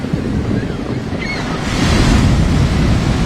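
Sea waves wash onto a shore protected by a sea wall, a broad roaring surge under steady wind buffeting the microphone, growing louder toward the end.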